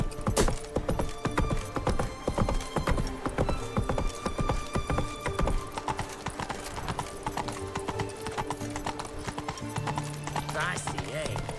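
Hooves of the horse Roach clip-clop in a steady, fast rhythm across The Witcher 3, close and continuous, with a voice speaking over the trotting and a brief neigh-like cry near the start.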